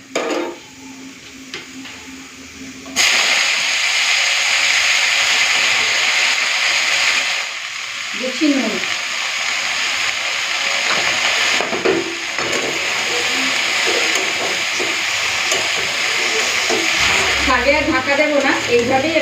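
Water spinach hits hot oil with fried garlic, giving a sudden loud, steady sizzle that continues throughout, with occasional stirring clatter from the pan.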